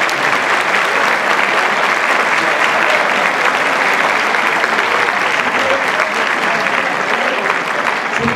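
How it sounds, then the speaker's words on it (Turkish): A large audience at a university white coat ceremony gives loud, sustained applause, a dense and unbroken roar of clapping hands that holds steady from start to finish. "bütün kamu görevlerine buradan da güçlü bir alkış gönderelim mi?"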